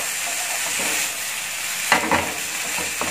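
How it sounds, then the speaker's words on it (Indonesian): Mushrooms and beef are stirred together in a hot pan with garlic, producing a continuous sizzle broken by a couple of sharper scraping stirs near the end. "lalu saya aduk lagi bersamaan dengan dagingnya. Nah, saya bolak-balik"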